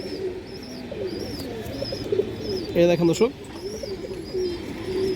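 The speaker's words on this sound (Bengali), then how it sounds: "একবার পুরান জাতের একটা নর কবুতর দর্শক, চায়না খাকি নর" An old-breed China Khaki male pigeon coos in low, repeated rolling calls, close by, while someone talks over it and faint chirps sound in the background.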